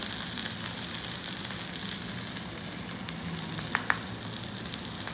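Steak fries in a pan in Japan with a constant close sizzle, sprinkled with small crackling pops and a couple of sharper spits.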